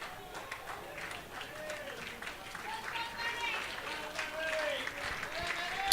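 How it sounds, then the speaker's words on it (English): Spectators at a Slough Town versus St Albans City football match applaud as a player leaves the field, a sustained spread of clapping and crowd noise from around the ground, with a commentator speaking over it throughout. "Williams just getting a large round of applause as he exits the field."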